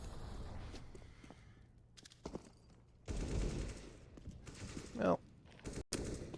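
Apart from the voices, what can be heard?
gunfire in Counter-Strike video game on Mirage map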